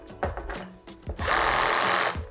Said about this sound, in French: la perceuse n'a pas assez de couple pour pouvoir faire rentrer la vis dans le bois